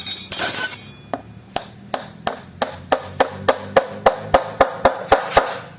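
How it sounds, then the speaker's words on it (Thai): A hammer drives a greased gear back onto a washing machine shaft in about fourteen evenly spaced, ringing metallic knocks that speed up slightly, close and clear with no speech, after a brief rustle at the start. "ต่อไปก็เอาค้อนตีมันไป"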